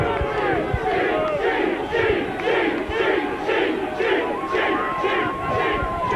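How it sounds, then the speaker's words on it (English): A large rugby league crowd at a Workington versus Leeds match roars loudly and steadily in sustained, surging waves of booing and shouting, with no commentary heard over it. "The boos of the crowd tell you that it's sailed through the middle."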